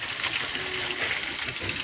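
Fish frying in a pan beside cooked dal and rice, a continuous close crackling sizzle with light scraping, no talk.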